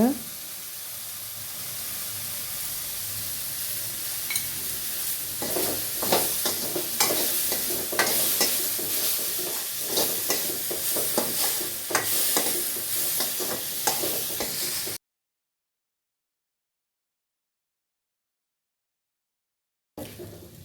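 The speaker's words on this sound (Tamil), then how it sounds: "பாருங்கள், பீர்க்கங்காய் சீக்கிரமே வதங்கிடுங்க." Ridge gourd, seasoned with chilli powder and salt, sautés in a pan with close, crackly sizzling and repeated stirring scrapes for about fifteen seconds, then a stretch of silence and a brief return of the sizzle.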